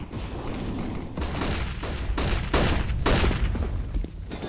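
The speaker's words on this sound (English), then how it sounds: "So many flashbangs, it was like a symphony." Flashbang grenades go off in CS:GO as a string of sharp, loud bangs in quick succession, layered over clattering mechanical game noise, with no talk.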